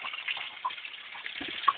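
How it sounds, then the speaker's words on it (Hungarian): Water drawn up by a pump pours out onto a Miller gold table built from scrap, a quiet, steady trickling gush with a couple of small splashy blips. "És itt folyik ki Miller táblára a víz."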